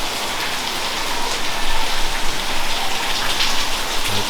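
Steady heavy rain falling outdoors, a dense continuous hiss of drops striking surfaces with no voices, holding an even loudness throughout.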